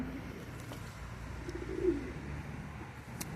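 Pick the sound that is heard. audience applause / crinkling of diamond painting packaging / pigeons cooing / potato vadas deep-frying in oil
pigeons cooing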